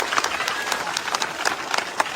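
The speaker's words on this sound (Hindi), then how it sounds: "इस बहन के लिए तालियां बजाइए" An audience applauds at a trophy presentation during a Bhim Army school inauguration in Madhya Pradesh, a dense, steady patter of many hands clapping at moderate volume.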